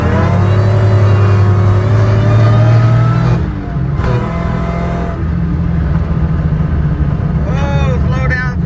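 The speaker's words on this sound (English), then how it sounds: "40 roll right here, second gear pull." A 2003 Mustang Cobra pulls hard in second gear from a roll, its engine note rising loud and close for about three seconds before easing off into a steadier drone, with a short voice near the end.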